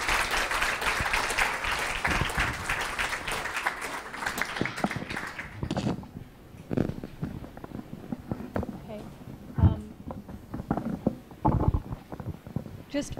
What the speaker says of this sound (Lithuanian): Mes galime visi padėkoti garsiais plojimais